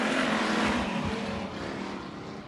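Race cars accelerating at the start of a heat race at Bakersfield Speedway, a loud close roar of engines that slowly fades as the pack pulls away.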